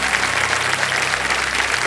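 Studio audience on a televised quiz game show applauding, a dense burst of clapping that holds loud and even for under two seconds.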